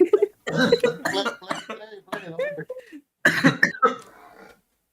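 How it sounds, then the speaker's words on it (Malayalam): Several sharp coughs break up nearby talking, with voices continuing between the bursts. "നല്ലോണം ചുമക്കുന്നുണ്ടല്ലോ"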